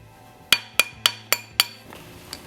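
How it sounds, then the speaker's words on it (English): Five sharp metallic taps ring out in an even rhythm as a hammer strikes a platinum wedding band on a mandrel, close and clear, followed by a faint lighter tap. "Stick it on the mandrel. And we're going to beat the crap out of it"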